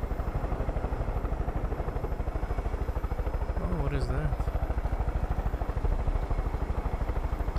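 A helicopter in the video game Far Cry 5 gives a steady, loud rhythmic rotor chop throughout, with a brief whining sweep near the middle.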